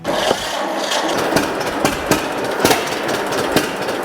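A 1949 John Deere Model A tractor with a flooding carburetor runs roughly, its steady engine chug broken by irregular sharp knocks and pops, loud and close.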